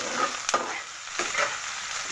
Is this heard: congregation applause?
no